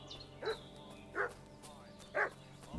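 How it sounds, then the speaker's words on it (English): A dog in the video game Kingdom Come: Deliverance II barks three times, each bark a short distinct burst evenly spaced over a quiet, faint outdoor ambience, heard from a moderate distance. "What's that dog making such a fuss about?"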